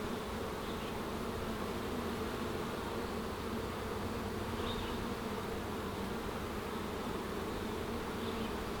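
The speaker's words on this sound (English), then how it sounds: "We got a bee doing a dance here." Honeybees in an open hive during a swarm-prevention inspection make a dense, steady buzzing drone, close and continuous throughout, with no talking.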